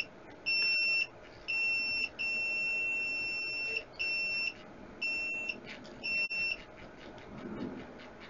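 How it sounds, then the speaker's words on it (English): A compact 100-watt SWR and power meter sounds its high-SWR alarm, a series of shrill electronic beeps in irregular bursts of varying length, close and clear over a faint background hum. "And here it beeps."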